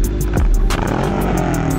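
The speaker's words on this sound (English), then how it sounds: "Let the revving begin." Loud, continuous engine rumble with rising and falling revs, close by, over steady low roar; motorcycle engines, including a BMW M1000RR and a stretched Kawasaki Ninja H2, revving hard at a bike night.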